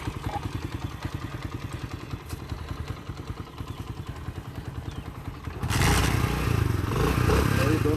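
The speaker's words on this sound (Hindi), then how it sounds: "दोनों बाइक स्टार्ट हो गई हैं" Two Honda CD 70 2022 motorcycle engines: one chugs at a low idle, then the second fires up and the combined rumble grows louder and rougher.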